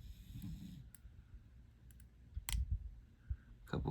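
Sharp pin clicks from picking a Gifted 5260 padlock: a few separate close metallic clicks spaced across the moment, with soft handling rustle between them.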